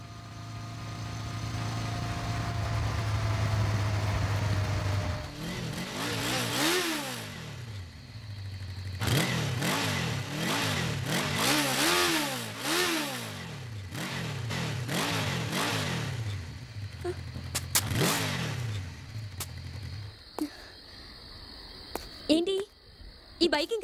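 A motorcycle engine that will not run properly idles with a low rumble, then revs repeatedly in rising and falling sweeps, cutting out and sputtering near the end.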